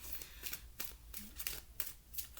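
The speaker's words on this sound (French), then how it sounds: "on va tirer cette carte" Oracle cards are shuffled and one is drawn from the deck, giving a series of quiet, papery flicks and brushes in a soft irregular rhythm, close and faint.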